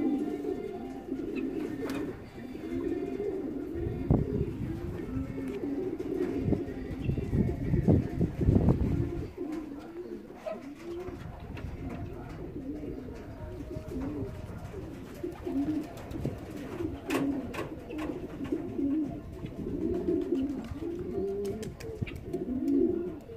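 Racing pigeons coo outdoors in a steady, overlapping chorus of low, rolling calls, fairly close and continuous, with faint chirps and a brief rustle partway through.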